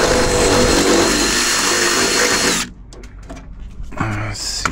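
A power drill with a 7/32 bit bores into a door latch part of a 1992 Jeep YJ. The whine runs loud and steady, then cuts off abruptly, followed by brief handling clicks and a short final burst.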